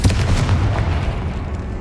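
The Bombarda spell goes off in Hogwarts Legacy as a loud, close, booming blast with a heavy low rumble that decays steadily over under two seconds, with no voices.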